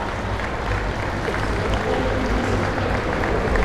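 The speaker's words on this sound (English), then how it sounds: "I think we should give these kids another round of applause" A crowd applauding 4-H youth at a Canadian 4-H dairy cattle show, a steady, dense wash of clapping that holds evenly throughout.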